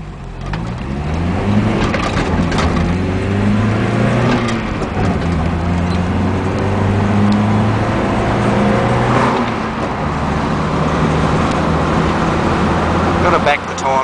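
A ute with slightly over-advanced timing that pings a little pulls away from a standing stop, its loud engine note climbing in pitch, dropping back and rising again through the gear changes, with road noise underneath.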